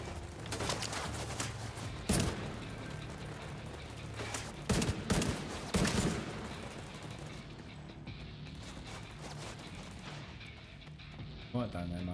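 Gunfire in the video game The Division 2 on PC: sharp, loud bursts of shots crack out repeatedly over a steady low rumble of background game noise, with several heavy volleys clustered in the middle and a final burst near the end, and voices murmur in places.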